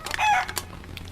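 Chickens, including a rooster, crow and cluck close by on a farm where the birds are being given a new poultry vitamin; a short loud call is followed by softer clucking.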